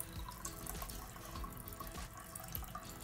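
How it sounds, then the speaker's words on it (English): Coffee is poured into a cup as a quiet, steady liquid trickle with faint splashing, continuous and low in level throughout. "I'm pouring coffee."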